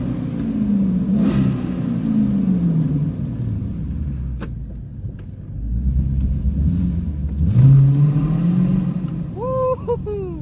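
A Dodge Challenger R/T engine revs inside a parking garage: deep rumbling blips rise and fall twice, echoing off concrete, with a loud throaty surge near the end.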